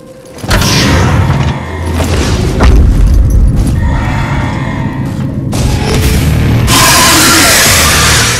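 Loud combat shotgun blasts in the video game DOOM, a string of heavy booming shots with mechanical clatter between them, close and forceful with no voice over them.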